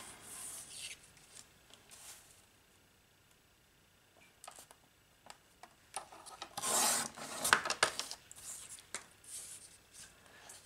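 Small pieces of wood being cut for a note pad and gel pen organizer: scattered light rasping and scraping at close range, with a louder burst of cutting in the middle and quieter handling sounds around it.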